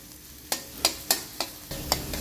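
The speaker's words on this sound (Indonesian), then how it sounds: "kita tumis dulu 3 biji bawang merah halus dengan 3 ulah bawang putih" Chopped shallots and garlic sauté in a pan, a steady sizzle punctuated by six crisp scraping stir strokes at an uneven rhythm, close by and alone.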